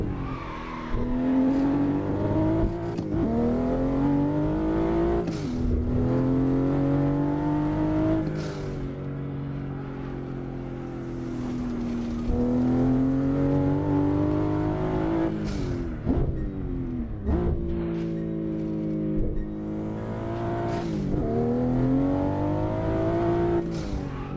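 A car engine in the racing game Assetto Corsa, played on a driving simulator rig, revs up through the gears again and again, its tone climbing and dropping in repeated sweeps with short shift breaks, steady and prominent.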